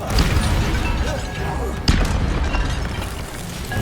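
A fire spell is cast in the video game Hogwarts Legacy, landing as one sharp burst and boom near the middle, set against a dense, steady rumble of game ambience.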